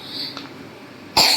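Patient with ptosis and watering eyes gives a single abrupt cough near the end, preceded by quiet room tone.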